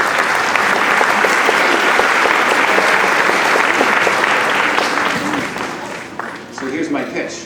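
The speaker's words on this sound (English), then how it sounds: "how about a round of applause for the parents?" A crowd at a third grade chorus concert applauds loudly and steadily for several seconds, the clapping thinning out near the end as a few voices come through.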